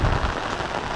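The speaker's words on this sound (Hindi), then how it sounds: "बाप रे इतना बारिश हो रहा है" Heavy monsoon-style rain pours steadily onto surfaces outdoors, a dense, continuous hiss with low rumbling at the start, close and loud throughout with no voices.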